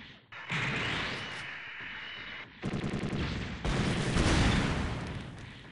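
The GN Arms Type-D Dynames fires its shoulder cannons in SD Gundam Online: a dense, loud barrage of rapid gunfire-like blasts that runs almost without a break and swells toward the end.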